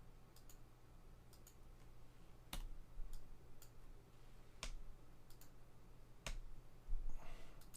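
Sharp, sparse key presses on a computer keyboard during sign-making design work, a few isolated clicks spaced seconds apart over quiet background hiss.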